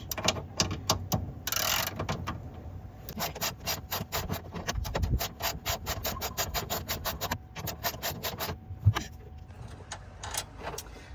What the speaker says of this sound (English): I've just added an extension to my socket wrench.